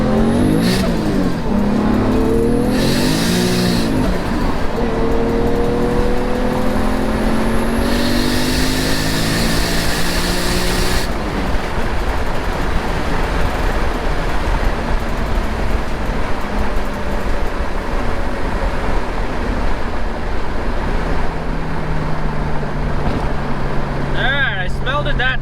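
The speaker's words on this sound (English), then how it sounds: "I just want to see what happens in a fifth gear." A manual-transmission car pulls hard in fifth gear during a night run after a shifter housing gasket replacement. The engine drones loudly from inside the cabin, its pitch climbing steadily as the car gains speed.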